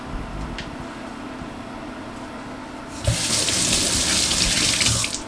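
Tap water runs steadily into a sink during handwashing in a home kitchen while potatoes are being cooked, starting abruptly halfway through and continuing as a broad, close hiss.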